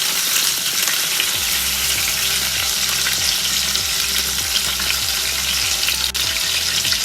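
Meatballs sizzle in a pan of hot oil, a loud, steady frying hiss up close with no voices, while a low rhythmic background pulse repeats underneath.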